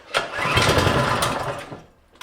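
A Predator 6.5hp 212cc engine on a snowblower cold-starting: a loud, sputtering run that catches near the start, holds for about a second and a half, then fades, with a short burst at the end.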